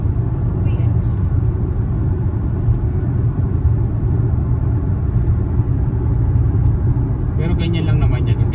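Steady road traffic on a street in Canada: a continuous low rumble of passing cars and engines fills the whole stretch, with a brief higher hiss near the end, while someone talks.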